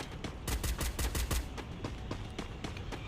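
Rapid gunfire from the video game Free Fire crackles in quick bursts of sharp shots, loudest early on and then continuing as lighter, steady rattling fire, with no voice over it.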